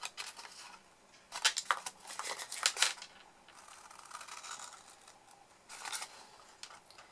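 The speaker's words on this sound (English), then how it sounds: "So just cut away the 4 corners." Scissors snipping the corners off a cardboard egg box, a few close bursts of crisp cutting and crinkling with quiet pauses between, no voices.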